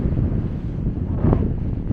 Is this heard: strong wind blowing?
yes